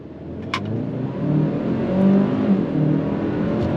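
A 2024 Hyundai Santa Cruz XRT's turbocharged engine with dual-clutch transmission revs up as it pulls away from a stop, rising in pitch and loudness, heard from inside with a brief click early on.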